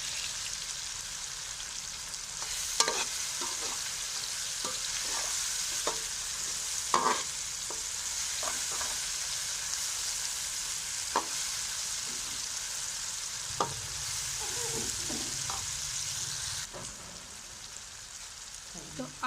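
Garlic and green chillies fry in a pan for bhindi gosht, with a steady close sizzle broken by scattered spoon clicks and stirring taps.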